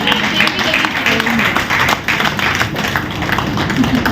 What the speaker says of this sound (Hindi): तालियां अपने लिए जोर से बजाएं